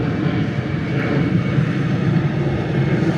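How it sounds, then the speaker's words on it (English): Propeller and jet airplanes pass overhead near Toronto Pearson Airport, a loud, steady drone of aircraft engines filling the air throughout with no talk. "I'm hearing planes today."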